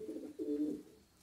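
Racing pigeons in Romania, being trained at Focșani for a long-distance race, give soft low coos, two short phrases close to the microphone with the second one longer, over a quiet background.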